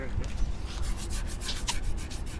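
Close, dry rubbing of a hand across rough car paint on a Honda Civic Type R FD2R, a steady scratchy friction with slight rhythmic strokes.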